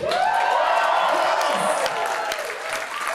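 Studio audience at a live AXS TV taping screaming, cheering and clapping loudly and continuously, a dense roar of many voices and hands close up throughout.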